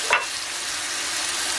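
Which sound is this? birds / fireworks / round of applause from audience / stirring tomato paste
stirring tomato paste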